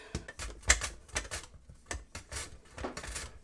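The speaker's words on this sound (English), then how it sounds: "After we cut these potatoes with the mandolin" Potatoes sliced on a mandoline for a gratin, with a quick series of close, crisp scraping clicks in an uneven rhythm and no talk.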